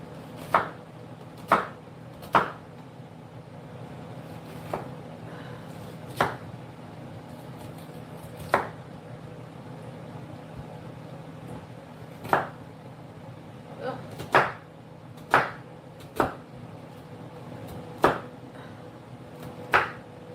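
An onion being chopped with a knife on a board, a dozen or so sharp, irregular knocks spread out and close by, with light background hum between strokes.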